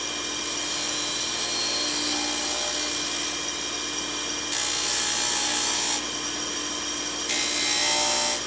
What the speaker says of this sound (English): It's a small sander, but a useful accessory for the radial arm saw.